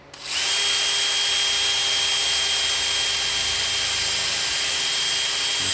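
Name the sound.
drilling out a rivet head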